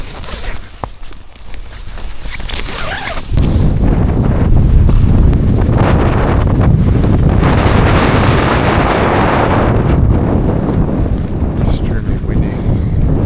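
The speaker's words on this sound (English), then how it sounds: "Extremely windy." Strong storm wind of about 60 mph roars steadily across a microphone outdoors on a hiking trip, lighter gusts for the first few seconds and then a loud, sustained blast of buffeting that continues to the end.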